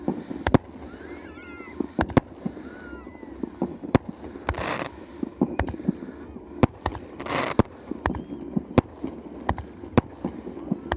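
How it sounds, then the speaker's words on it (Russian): A fireworks salute booms over frozen water at dusk near Yakutsk, a string of sharp distant bangs spaced irregularly with some crackling bursts, heard alone against an open outdoor background. "В честь меня салют дают!"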